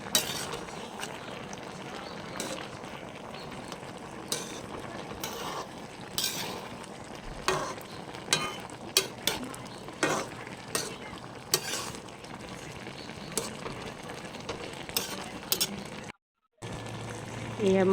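Bottle gourd and fish boil in a pot while a spoon stirs them, giving scattered scraping clicks over a steady bubbling simmer. A brief silence comes near the end.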